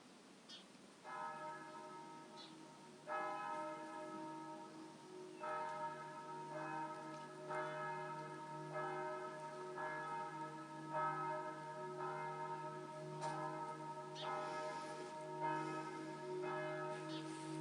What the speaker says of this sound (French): Et j'ai la confirmation avec les cloches.